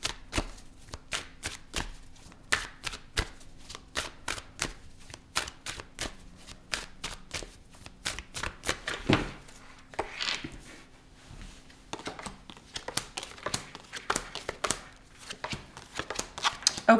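A deck of tarot cards is shuffled close by in repeated bursts of sharp riffling snaps and flutters, with short pauses between rounds.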